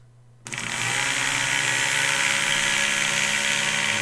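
A homemade slot car tire truing machine's small electric motor starts abruptly after a short quiet moment, then runs with a steady, loud, high-pitched whine and continuous buzz, close up and alone with no talking.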